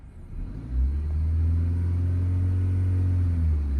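A car engine pulling away in first gear as the clutch is eased out with light throttle, a low, steady, close rumble that swells within the first second and then holds at an even drone.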